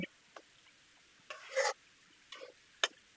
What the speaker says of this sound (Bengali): একটু ভালো করে নাড়াচাড়া করে আমি এখন ঢেকে দিব।